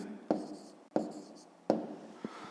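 Pen or pencil writing by hand on paper during a fifth-grade maths exercise, close and quiet, with three sharp stroke onsets followed by scratchy scribbling and a final small tap, no talking.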